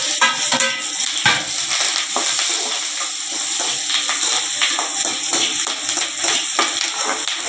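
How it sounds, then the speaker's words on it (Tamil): Garlic and onion sauté in a pan of hot oil with mustard seeds and fenugreek, giving a steady sizzle with frequent stirring taps and scrapes, close and fairly loud, no voices. "பார்த்தீங்கன்னா பூண்டும் வெங்காயம்லாம் போட்டு வதக்கிக்கலாம்"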